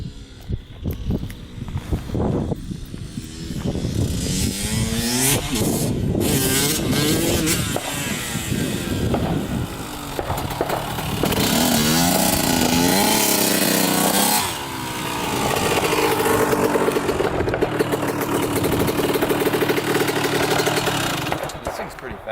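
A Yamaha MX 175 dirt bike engine revs and pulls hard while riding, loud and close with rising and falling throttle. Voices are faintly audible at moments.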